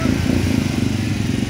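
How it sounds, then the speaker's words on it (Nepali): Motorcycle engines rumble steadily at a slow bike race, a close, continuous low drone with no clear revving. "स्लो बाइक रेस प्रतियोगिता"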